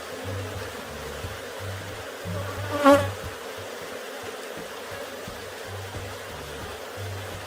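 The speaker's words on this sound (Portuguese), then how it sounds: "Quanto mais você facilitar a vida das suas abelhas, mais resultado elas vão lhe dar." Africanized honey bees buzzing steadily at their hives outdoors, a constant dense hum with one bee briefly passing close to the listener.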